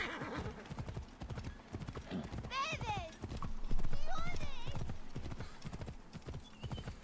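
A stolen horse gallops in Assassin's Creed Origins, its quick rhythmic hoofbeats running throughout with a couple of whinnies, under game voices and talk.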